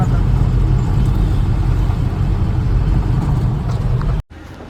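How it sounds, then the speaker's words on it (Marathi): A pickup vehicle is driven fast on the road, a loud, steady engine and road roar close up that carries without a break until a sudden brief dropout just before the end. "आता तर विशाल दादा बघा आपला कसा पळवतो गाडी"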